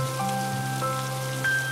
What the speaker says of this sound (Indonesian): Kutatap titik-titik air hujan yang turun dengan deras.